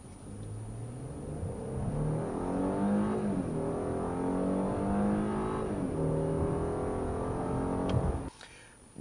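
A 2015 Hyundai Genesis base car's V6 accelerates hard through several gears, its engine note climbing steadily in pitch, dipping briefly at each shift, then cutting off abruptly near the end.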